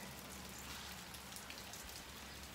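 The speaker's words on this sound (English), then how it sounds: "It's raining. Can you see the rain?" Steady rain falls outside a house on a gray, cloudy day, a dense even hiss of drops on surfaces, soft and continuous with no voices.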